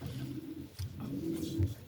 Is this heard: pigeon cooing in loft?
yes